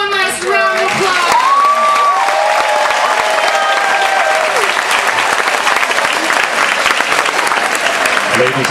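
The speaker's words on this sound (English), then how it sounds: "give these little pirates one last round of applause" A cruise ship audience gives loud, sustained applause for a children's pirate show, with cheers and shouts mixed into the clapping, which starts abruptly and fills the whole stretch.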